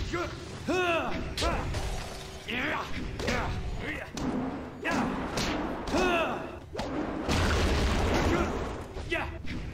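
Several heavy thuds and bursts from an explosion in the video game Jade Empire, mixed with chirpy synthetic effects and a voice speaking over the top, all at close range.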